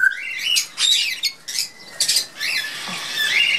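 Parrots in an indoor breeding shed give repeated sharp squawks and chirps in close, overlapping bursts that stay loud for the whole stretch, with no talking.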